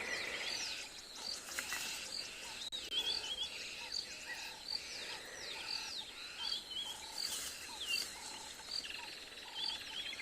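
Dawn chorus in the wild at sunrise: many birds chirp and trill continuously at moderate distance, with faint insect buzzing beneath, and no voices.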